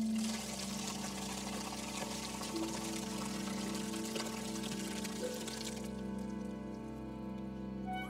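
Water poured into large ceremonial washing jars, a steady trickling pour running beneath a sustained orchestral music score.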